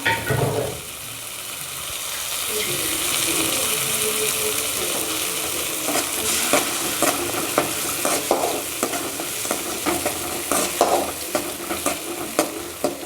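Ground tomato stir-fried in a pan for masala idli: a bright sizzle settles after the first second, then repeated scraping stirs of a spoon in the pan come through in close, uneven strokes, no talking.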